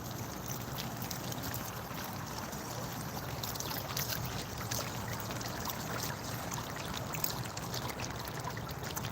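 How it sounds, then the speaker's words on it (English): Rain falls and water trickles and drips over a big boulder outdoors, a faint, steady wash of splashing with soft, irregular drips throughout and no other sounds. "this big boulder over here makes a nice sound too. Along with the rain. Drip, drip, and a bubble,"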